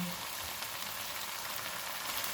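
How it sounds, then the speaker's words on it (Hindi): Green chillies fry in a pan with cumin powder, giving a soft, steady sizzle and crackle that continues evenly and quietly throughout. "दो सब्ज़ मिर्चें डालेंगे,"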